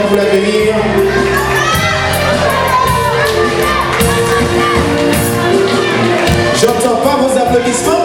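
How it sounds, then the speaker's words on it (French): Loud crowd at a carnival queen and mini queen election in southern Martinique cheering, shouting and whooping continuously for the candidates, dense and close throughout. "Des applaudissements également pour l'avenir."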